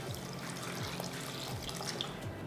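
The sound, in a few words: water being poured into cooking pot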